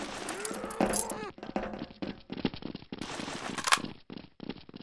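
Rapid gunfire in CSS Zombie Escape, a Counter-Strike: Source mode, crackling in dense, uneven bursts at moderate volume, with players talking over it.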